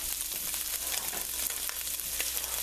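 Pepperoni sizzles in its own grease in a pan over a low flame, a steady close crackling hiss with tiny pops throughout and no talking.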